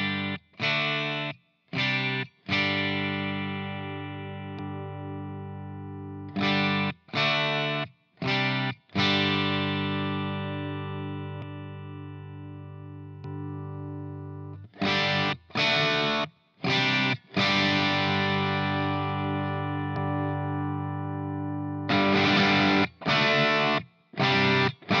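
Electric guitar through an Analogman King of Tone overdrive pedal, ringing chords with a slightly gritty edge, played in bursts with short pauses between them, loud and close.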